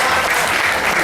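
Audience applause fills the hall at a fraternity's golden anniversary awards night, loud, dense and continuous clapping in a brief burst.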